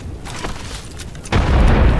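Thrown grenade in a video game going off, a sudden loud deep boom that comes after a second of quieter game noise with small clicks and pops.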